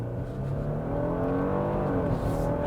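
A 2022 Genesis G80 Sport launches under launch control at full throttle, its engine note building into a loud, continuous rising roar heard from inside the car with no talking.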